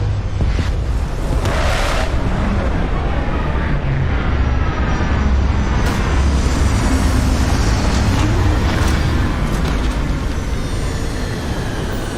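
A spaceship in the video game Starfield comes in to land, a loud, steady engine roar with deep rumble and shifting whining tones that persists unbroken throughout, with no voices.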